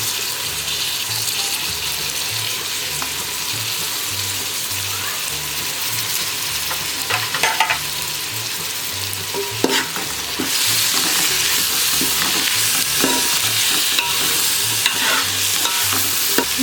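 Tomato pieces for Nellore fish curry fry in a pan and are stirred, giving a loud, steady sizzle with scraping stirs and a brighter hiss in the second half. Nobody talks.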